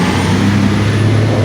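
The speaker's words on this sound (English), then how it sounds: "Loud ass bus coming through." A loud bus passes close by on an early-morning street, its engine a heavy steady rumble with a broad roar on top that holds throughout.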